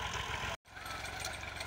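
A Massey Ferguson 260 tractor engine runs steadily in a Punjab village, a dense, loud rumble that drops out for an instant before resuming at the same level.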